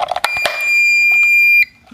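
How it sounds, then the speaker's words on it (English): An indoor exercise bike's display sounds one long electronic beep, loud and close, after batteries go in, preceded by a few clicks and handling knocks. "It makes some beep, it means it's working."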